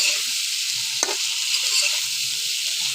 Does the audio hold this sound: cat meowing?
no